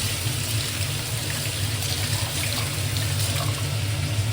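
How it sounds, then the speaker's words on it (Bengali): Tap water runs steadily while hands are washed, a continuous close splashing stream with a low hum beneath it and no voices. "এই 10 বার করে হাত ধোয়া"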